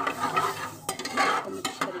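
Boiled dal being stirred into spices in a pan, a close, wet scraping with soft sizzle and a few sharp utensil knocks against the pan, no talk.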